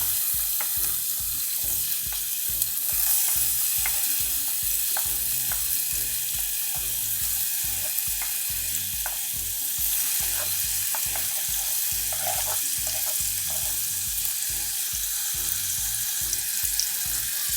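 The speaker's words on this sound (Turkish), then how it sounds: "Yağımız kızdıktan sonra doğradığımız soğanları ilave ediyoruz." Continuous loud sizzle of chopped onions frying in hot oil, with a rhythmic scraping of stirring underneath, close up and without speech.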